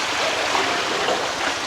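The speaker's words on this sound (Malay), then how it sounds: "Ada bunyi-bunyian air." Flowing water from a stream at a cafe beside a pineapple plantation in Pontian, a steady rushing burble that is close and moderately loud, heard alone.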